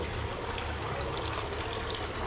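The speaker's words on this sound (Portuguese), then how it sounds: "deixa escorrer um pouquinho a água" Water drains and trickles steadily from a pond sump filter being lifted out, a soft continuous splashing dribble heard close and fairly quietly, with no voices.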